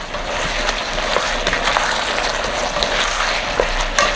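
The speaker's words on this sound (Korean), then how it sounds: "네, 볶다가 한 2분 정도 뜸을 들여줬거든요" Bottle gourd with perilla seed powder cooking over medium heat in a covered pan, giving a steady soft sizzle with faint crackles and occasional small pops, close and alone.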